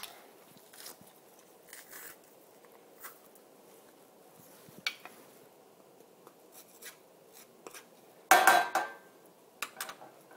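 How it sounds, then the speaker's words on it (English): Ingredients for mac and cheese are stirred in a cooking pot, soft scraping with scattered light clinks and taps, then a sharp loud clatter of metal against the pot near the end, all close and quiet with no talking. "Give that all a stir."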